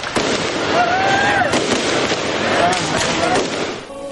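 Fireworks display at a New Year celebration in Laoag City, Ilocos Norte, heard as a continuous crackling, booming wash with a crowd murmuring underneath throughout.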